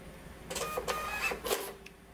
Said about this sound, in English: I'm just going to execute our code here, which will send the data to our printer.